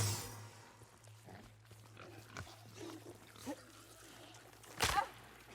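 Pigs in the video game The Outer Worlds grunting and oinking in scattered short bursts over a low steady hum, quiet at first, with one louder squealing grunt near the end.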